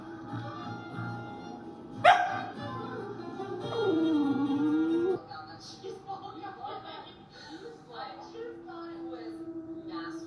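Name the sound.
dog growling and whining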